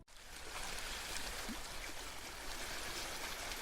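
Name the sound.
sea waves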